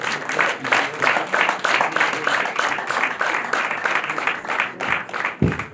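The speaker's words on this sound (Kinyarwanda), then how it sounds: "ubundi amashyi Reka bakayakora" Wedding guests break into sustained applause, a dense wash of many hands clapping in rapid, slightly uneven bursts that carries on for several seconds with a few voices mixed in.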